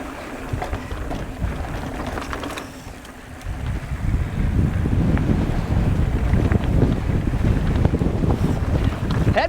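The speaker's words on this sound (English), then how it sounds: "Headwind." Strong headwind buffets the microphone while riding a Utah trail, a loud rumbling roar that eases briefly then grows heavier and gusty.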